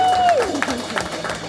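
Audience applause at a live poetry reading, a brief burst of clapping from a small crowd with a few cheers, overlapping a voice as the clapping fades out.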